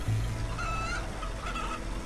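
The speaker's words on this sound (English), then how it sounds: "Oh, we got chickens down here?" Chickens cluck and squawk in the survival video game HumanitZ, a steady run of repeated calls over a constant low hum of game ambience, with no one talking.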